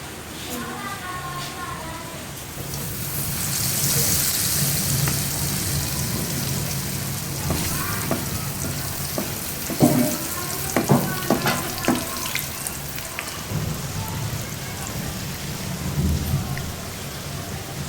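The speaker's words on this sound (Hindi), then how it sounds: "ऑयल बिल्कुल गर्म हो चुका है। अब हम इसमें डिप करके" Potato bread pakoras deep-frying in hot oil, a steady crackling sizzle that runs through the whole stretch, with scattered sharper pops and a few louder bursts toward the end.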